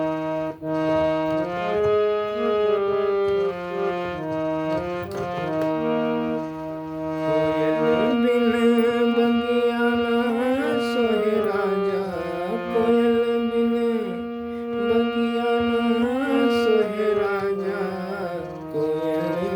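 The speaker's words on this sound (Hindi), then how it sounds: "अब हम इसी हारमोनियम की आवाज़ में गायकी कर रहे हैं।" A harmonium plays a Bhojpuri folk tune alone, with sustained reedy chords and melody notes that shift steadily and never break.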